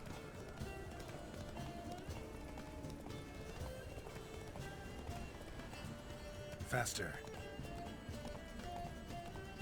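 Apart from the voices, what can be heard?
horse galloping in video game The Witcher 3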